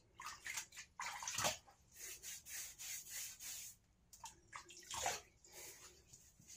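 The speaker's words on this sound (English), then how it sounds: "let's go ahead and get my head wet." Hot water is splashed by hand onto a head before a shave, giving several close, wet, rubbing splashes in uneven bursts with short quiet gaps.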